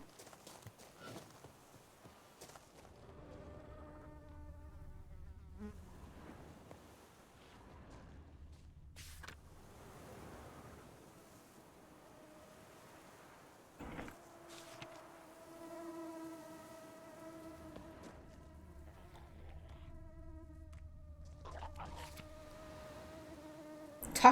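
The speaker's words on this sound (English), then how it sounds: "Why do I hear bees?" A low droning buzz of bees in the video game The Witcher 3 comes and goes in long stretches, faint and steady, with soft tonal hums and occasional clicks.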